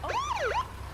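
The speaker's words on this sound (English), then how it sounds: "A police car." A police car siren wails in a rising and falling sweep, loud and close, sounding alone for about a second.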